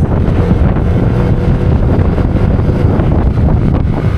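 Strong wind at a cold-weather mountain campsite, roaring loudly and steadily against the microphone with heavy low rumbling buffets, no voices heard.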